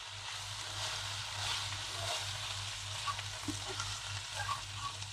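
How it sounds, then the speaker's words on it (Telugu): Chicken frying in a pan over raised heat, a steady, close sizzle that runs throughout with occasional stirring clicks and pops. "ఇప్పుడు కొంచెము ఫ్లేమ్ ఎక్కువ చేసి ఈ చికెన్ కి కలర్ వచ్చేంత వరకు ఫ్రై"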